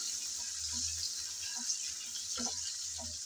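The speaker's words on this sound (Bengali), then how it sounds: "আমি কিছুক্ষণ নেড়ে চেড়ে ভেজে নিলাম" Eggs frying in hot oil while being stirred, a steady close hiss with soft scraping taps at irregular moments and no talking.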